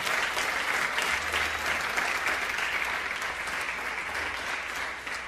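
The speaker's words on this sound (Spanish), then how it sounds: "Dale un aplauso al Señor para que" A church congregation claps in praise during a service, a loud, even wash of applause from a large crowd that carries on steadily throughout.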